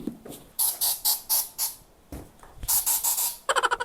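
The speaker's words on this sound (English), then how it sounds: "So let's spray this with Lysol." Lysol disinfectant is sprayed onto a gaming headset stand in a series of short hissing bursts with brief pauses between them, ending in a quick rapid run of spurts.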